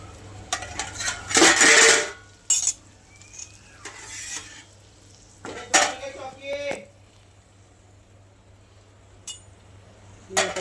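Pots, pans and utensils clatter and clink in bursts at a home kitchen gas stove where fish is cooking in a pan, with scraping stirs and brief quiet gaps between.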